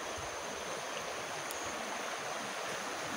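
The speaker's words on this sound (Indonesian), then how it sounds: "Ini sungai yang sangat besar sekali menurut warga sekitar." A very large river rushes in a constant broadband wash, steady and enveloping with no breaks, close by and with no voices.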